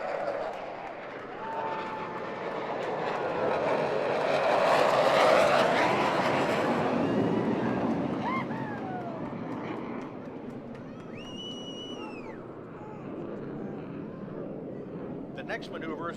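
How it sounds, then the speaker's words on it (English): Airshow jets, two solo pilots of a demonstration team flying an opposing 360 pass over Pensacola Beach, swell into a loud broad roar that peaks mid-clip and fades, with a narrator speaking over the engines. "The 2 solo pilots should be coming in from the left and right for the opposing 360 pass."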